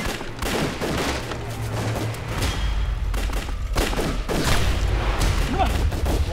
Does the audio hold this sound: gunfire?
yes